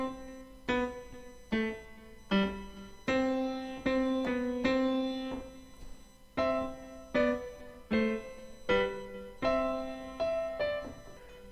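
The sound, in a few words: piano playing a Trinity Initial Grade piece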